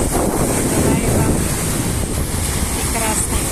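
Sea waves break on the shore at Gagra, Abkhazia, on an evening by the sea: a steady, loud, close wash of surf and rushing water, mixed with wind buffeting the microphone and no clear talk.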